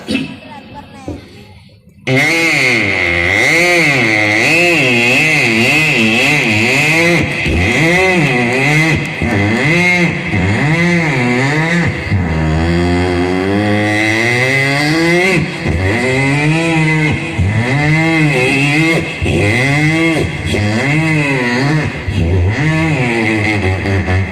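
A loud, close voice imitates a motorcycle roaring around a well of death, its pitch rising and falling in repeated revving sweeps.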